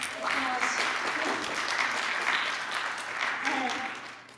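An audience gives a round of applause at the 2022 SVVSF event, a steady broad wash of clapping lasting about four seconds before tapering off.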